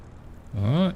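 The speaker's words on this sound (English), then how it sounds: "We are but a little plane. A tiny itsy bitsy plane." A small propeller plane engine in a flight simulator rises in a short harmonic whine that climbs and falls in pitch, loud and close, alone with no talk.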